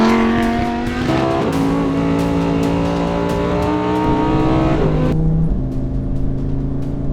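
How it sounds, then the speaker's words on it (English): Lamborghini Huracan Tecnica V10 engine with direct injection and no petrol particulate filter, revving loud and close with sustained rising and falling tones, a sharp drop just past five seconds, then settling into a steady high drone. "it's the sound of that engine that just gets your juices flowing"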